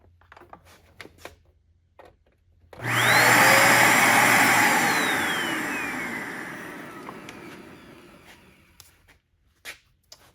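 A clogged Dirt Devil Endura Max vacuum cleaner starts abruptly and roars loudly with a high whine, then slowly fades as it winds down. A few quiet handling clicks come before and after.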